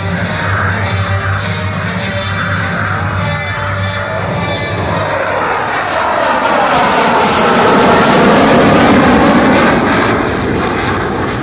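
An F-22 Raptor jet fighter on a dedication pass at the California Capital Air Show, its loud engine roar building and sweeping past close by, then swelling to a peak as it passes.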